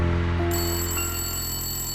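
An electronic telephone ringtone sounds in an indoor scene from an action film, a steady bright chiming tone holding for about two seconds at moderate volume with no voices.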